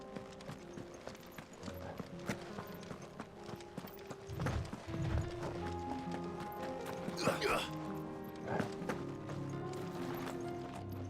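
Boot footsteps in Final Fantasy XVI that clop like horse hooves, a steady run of hard footfalls under game music and someone talking.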